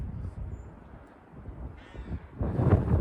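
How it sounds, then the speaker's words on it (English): Several crows caw loudly outdoors, the harsh calls growing louder and more crowded toward the end over a low rumbling background. "What is with all the crows? Can you hear them?"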